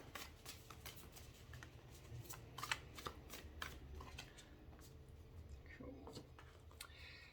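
Tarot cards shuffled and drawn, a steady run of soft papery riffles and flicks with a few sharper snaps, close and quiet beneath a low hiss.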